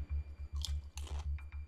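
Someone chews crunchy potato chips up close in a steady rhythm of about a dozen chomps, with crisp crackles breaking through the thick, muffled jaw sounds.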